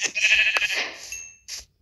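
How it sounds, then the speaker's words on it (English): Minecraft sheep bleat in a couple of short, wavering bleats, close and moderately loud, followed by a brief final bleat and then silence. "And I got a brown sheep and a gray sheep."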